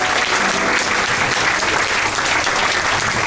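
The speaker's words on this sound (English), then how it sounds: "a big round of applause for Captain Stig Betten and his senior officers" Loud, dense applause from a gala audience aboard the cruise ship Seabourn Odyssey greeting the captain and senior officers, a continuous wash of many hands without letup across the whole stretch.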